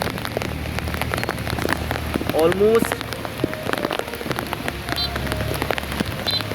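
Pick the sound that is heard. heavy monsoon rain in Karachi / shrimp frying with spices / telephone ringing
heavy monsoon rain in Karachi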